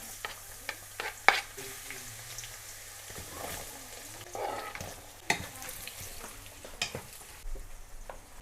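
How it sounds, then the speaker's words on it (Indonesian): Sliced spice paste stir-fries in a pan for ayam garang asem, with a quiet background sizzle punctuated by irregular clicks and scrapes of a spatula, close up and without talk. "Dan sekarang mari kita tumis bumbu irisnya."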